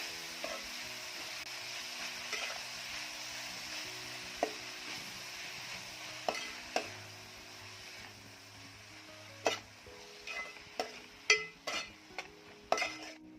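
Chopped fenugreek leaves, coarsely cut, being stirred in a pan over a soft sizzle, with scattered scraping and clinking taps of the spatula that grow busier toward the end.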